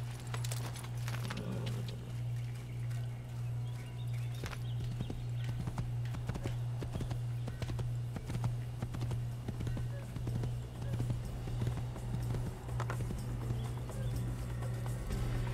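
Horse hooves clop in a steady rhythm over a constant low hum, continuing throughout at an even pace, in the video game Assassin's Creed.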